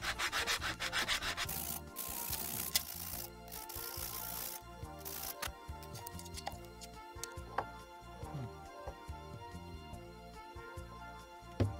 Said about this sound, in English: I'll just probably sand it on here so it sands to that curvature